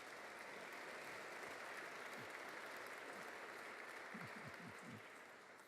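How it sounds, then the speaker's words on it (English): Conference audience at a rail festival opening session applauding, a faint, continuous patter of many hands heard from a distance, with a few low murmurs underneath. "will you give a round of applause"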